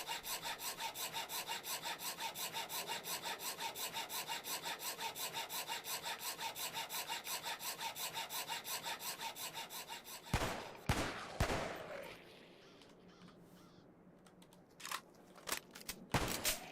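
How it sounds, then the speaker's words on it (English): A hacksaw in the video game Cataclysm Dark Days Ahead makes fast, evenly repeated rasping strokes for about ten seconds, followed by scattered clicks and thumps. "Again, hacksaw."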